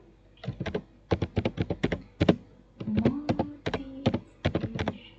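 Clicky bursts of keystrokes on a computer keyboard, typed in quick uneven clusters with short pauses, close and fairly loud, with a faint tonal hum in the background and no talking.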